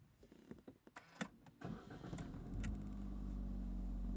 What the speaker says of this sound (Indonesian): ini kita tes starter mobil biar sekalian mengetahui puls starter